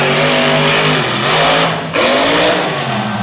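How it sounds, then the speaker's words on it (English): An alcohol-burning Chevrolet drag racing engine roars loud and close through a pass, revving hard and continuously, with one brief dip in pitch midway before climbing again. "That's the sound of an alcohol-burning Chevrolet engine"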